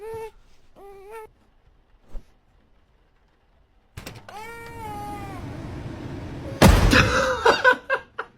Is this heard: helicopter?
no